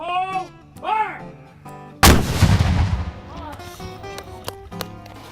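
A historic cannon at Fort Jackson fires once with a loud, close boom that rumbles and decays over about a second. Voices speak before the blast and again as it fades.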